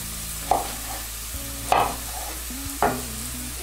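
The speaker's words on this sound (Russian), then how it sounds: "Одновременно наблюдаю за тем, как обжаривается наш лук и морковка." Onion and carrot fry in a pan with a steady low sizzle, interrupted by a few sharp clinks of a utensil stirring against the pan.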